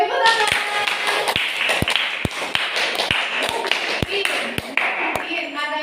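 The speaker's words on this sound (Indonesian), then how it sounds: "Oke, tepuk tangan." A classroom group claps hands together, sharp uneven claps ringing out over busy overlapping chatter and children's voices.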